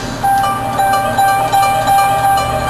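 A short looped music snippet plays with sustained tonal notes and soft pulsing beats, loud and alone for a few seconds.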